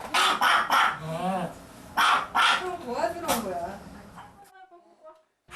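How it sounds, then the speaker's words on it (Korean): A small pet dog barks fiercely at a visitor entering a bedroom in a home, with a string of sharp, rapid yaps over the first four seconds, then quiet; a voice may also be present. "손님이 곧장 승영 씨가 누워있는 방으로 들어서자 몽이 녀석 더욱 격렬히 짖어대는데요"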